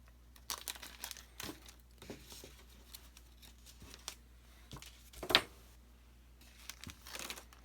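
A plastic bag of 2.5-inch screws is handled close by, with soft crinkling and rustling in short bursts and a sharper crackle midway, alone in a quiet room.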